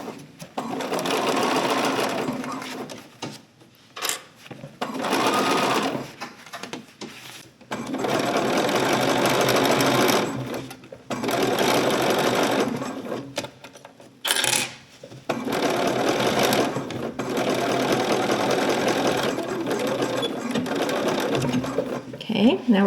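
Sewing machine stitching around a welt pocket on a 1950s vintage-style coat, running in several long bursts separated by short pauses, close and fairly loud.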